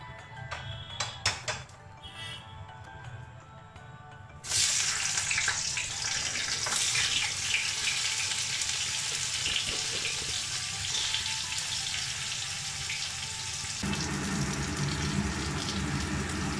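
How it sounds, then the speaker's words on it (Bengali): Potato and aubergine pieces frying in mustard oil with salt and turmeric, a steady loud sizzle that starts abruptly after a few quiet seconds and continues evenly throughout, with no talking. "নুন আর হলুদ দিয়ে আলু আর বেগুনটাকে আলাদা আলাদা করে ভাজবো।"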